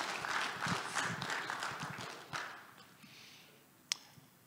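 Scattered, fairly faint clapping from a conference audience at a security talk, broadband and uneven for about two seconds before thinning out, followed by quiet room tone and a single sharp tap near the end.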